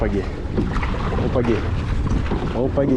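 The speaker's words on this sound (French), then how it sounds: "Il y a de la houle, mais on pagaie." Paddling a kayak on the sea swell with little wind: a steady rush of water and wind buffeting the microphone, close and loud, with people talking over it.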